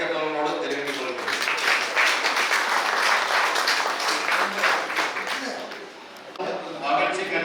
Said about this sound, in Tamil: உங்களது பலத்த கைத்தட்டல்களோடு தெரிவித்துக் கொள்கிறேன்